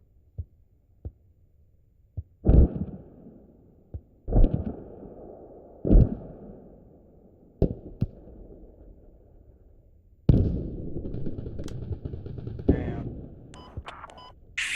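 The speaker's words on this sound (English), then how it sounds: "they got mortars on this hab too" Mortar fire in a competitive shooter video game: several heavy, booming thuds arrive at uneven intervals, with a few sharp clicks between them and a longer rumbling blast near the end.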